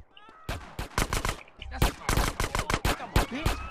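Machine pistol fire in GTA San Andreas during a gang territory fight, loud rapid bursts of shots in two clusters, the second longer and denser, with a voice speaking between them.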